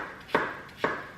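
A knife cuts through apples into chunks, giving two distinct crunching chops about half a second apart, close and clear with no talking.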